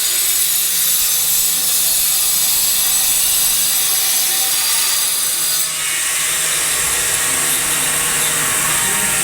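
A power tool cuts a small piece out of a ceramic tile for an outlet during bathroom tiling in a house under construction. It is a loud, continuous, close-up grinding whine that runs without a break, and the pitch shifts partway through.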